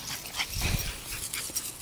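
A dog whimpers and pants while playing in a backyard water sprinkler, with short yips and whines over the steady hiss of spraying water, fairly close and no voices.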